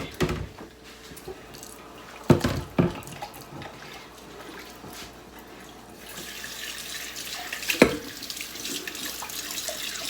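Grapes rinsed under a running kitchen tap, a steady stream of water splashing into the sink, louder and brighter in the second half, with a few sharper splashes and knocks as the fruit is handled.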